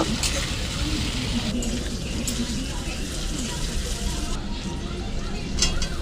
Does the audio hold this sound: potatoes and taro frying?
yes